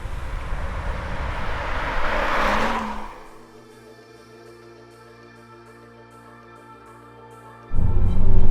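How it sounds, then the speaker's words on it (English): A 2002 Toyota Caldina GT-Four, third-generation turbo wagon, revs loudly then drops to a steady idle hum with a whining tone before a sharp burst of engine noise returns near the end; no talking. "This is a 2002 Toyota Caldina GT-Four."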